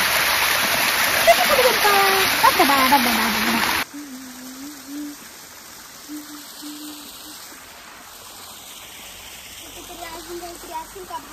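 Water rushes and splashes loudly from a small waterfall in a ghat past Trimbak for a few seconds, then it drops to a faint background as people talk.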